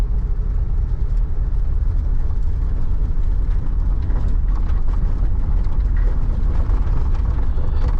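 A 1988 Dodge Ram B250 Safari van with a clunky automatic gearbox pulls away and drives, its engine a steady, loud low rumble with road and cabin noise throughout, no talking.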